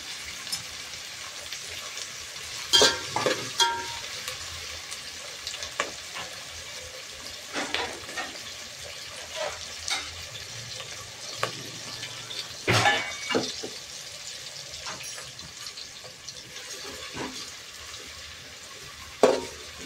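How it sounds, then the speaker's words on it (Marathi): Sliced onion frying over a high gas flame for chicken biryani: a soft, continuous sizzle broken by scattered clinks and scrapes of stirring, a few louder knocks standing out. "मोठ्या गॅसवर मी इथं हा कांदा भाजते"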